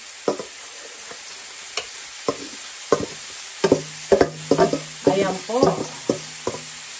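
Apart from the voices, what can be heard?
stir-frying rice for Asian fried rice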